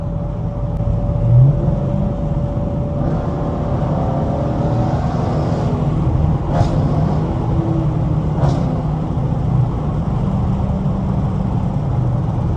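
A Chrysler 300 cruising on a highway at 65 mph at night, with a steady low road and engine rumble and broadband tire noise throughout, and a couple of faint passing transients.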